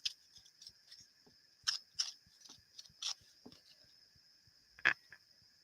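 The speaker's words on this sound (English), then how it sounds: "I'm going to take my scissors." Scissors snipping paper for an envelope flip craft project, a series of sharp, separate cuts with quiet pauses between them, close up and alone.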